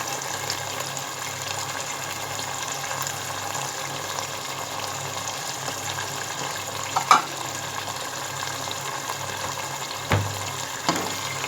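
Green chillies drop into a sizzling pan of beef karahi gosht, giving a steady, close hiss and crackle of frying with a few brief louder pops near the end.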